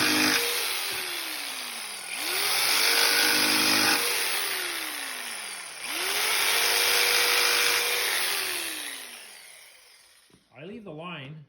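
A jigsaw cuts out a circle in two long runs, its motor whine rising and sagging in pitch as the blade follows the curve, before it winds down and stops near the end.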